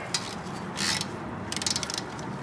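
A hand ratchet clicks in quick bursts while snugging a 10mm bolt on a Chevrolet Volt, a close, dry series of rapid pawl ticks with brief pauses between strokes.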